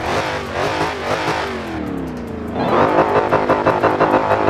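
A Dodge Hellcat in the racing game Forza Horizon 4: a loud engine revving hard with a rising supercharger whine, falling through a gear change then climbing again with rapid pulsing, close and dominant.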